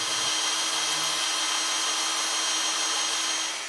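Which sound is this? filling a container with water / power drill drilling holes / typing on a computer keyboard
power drill drilling holes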